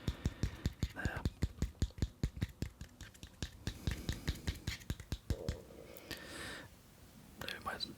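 Crisp rhythmic taps strike a keyboard at close range, coming fast and evenly at first and then in sparser bursts, with breathy whispering between them.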